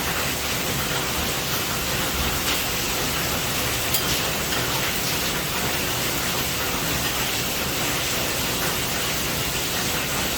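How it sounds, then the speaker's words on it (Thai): Heavy rain pours as a steady, dense hiss that fills the whole stretch without a break, loud and close, with no voices over it. "ช่วงนี้ฝนกำลังตกหนักเลยค่ะอาจารย์ มีฝนรบกวนหน่อยนะคะ"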